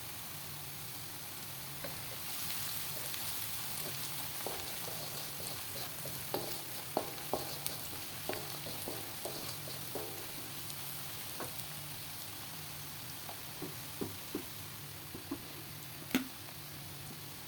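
Sliced onion fries in oil with turmeric powder for a spicy chicken dish, a steady soft sizzle broken by scattered crackles and spoon scrapes, close but quiet and without talk.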